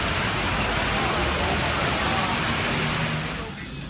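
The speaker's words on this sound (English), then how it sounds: "it's raining tonight." Steady, heavy rain falls at an outdoor night food market in Georgetown, Penang, Malaysia, a dense close hiss that runs unbroken and thins slightly at the end.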